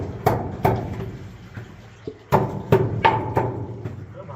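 Repeated sharp hammer taps on rock inside a gold mine, about a dozen close, loud metallic strikes at an uneven rhythm with ringing decay, no talking.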